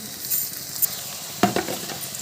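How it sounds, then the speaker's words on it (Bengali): Prawns frying with onion and garlic in a pan, a steady soft sizzle with a couple of brief stirring clinks partway through. "চিংড়ি মাছ একসাথে ভেজে ফেলছে"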